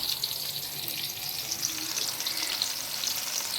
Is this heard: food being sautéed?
yes